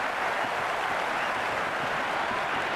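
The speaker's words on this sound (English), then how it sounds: "There's an almost tangible fervour throughout the crowd at the moment" A packed stadium crowd at a Pakistan versus South Africa T20 cricket semi-final roars and applauds after a six, forming a dense, even wash of noise that holds steady without letting up.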